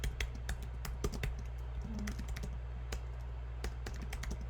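Fast, irregular clicking of a computer keyboard being typed on nearby, crisp individual keystrokes over a low steady hum, with no voices.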